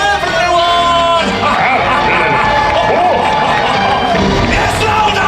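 Loud audience shouting and cheering at a live Hollywood Studios stage show, a dense wall of crowd voices filling the whole stretch with steady energy and scattered louder yells.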